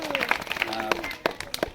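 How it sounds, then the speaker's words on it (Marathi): Children clap for a correct answer at a school quiz held for Savitribai Phule's birth anniversary, scattered claps and brief bursts rising under a speaking voice. "सगळ्या सगळ्यांना जोरदार टाळ्या"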